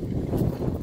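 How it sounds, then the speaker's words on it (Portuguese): Strong wind blows across a brick wall construction site for a tall 15-metre wall, producing a loud, low buffeting rumble against the microphone for the whole moment. "Aqui tá ventando bem."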